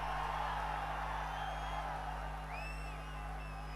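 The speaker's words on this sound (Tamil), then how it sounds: "குமராபாளையத்தில் நடைபெற்ற கூட்டத்தினுடைய ஆரவாரம் செவிய தொலைச்சுக்கிட்டு போகுது" Roaring crowd at a political rally in Kumarapalayam, with a steady dense wash of cheering and whoops and a few shrill whistles rising above the sustained noise.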